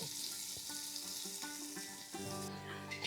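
Onions hitting hot oil and ghee in a pan sizzle steadily throughout, a dense continuous frying hiss with a few faint clinks, close and fairly quiet, no voices.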